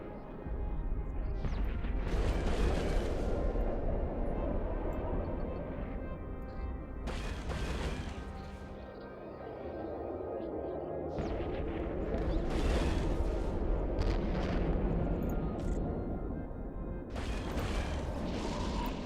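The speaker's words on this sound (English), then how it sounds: "as long as we're still firing missiles at him, we're alright" Missile launches in the space game Eve Online, a series of deep booming bursts rising out of a continuous low rumbling drone, several launches spread across the stretch.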